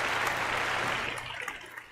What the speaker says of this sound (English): a big round of applause for Stephen